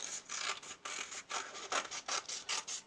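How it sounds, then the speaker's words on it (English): Scissors snipping through paper for a first-grade organic collage, a quick run of close, crisp rhythmic cuts, with no talk. "scissors."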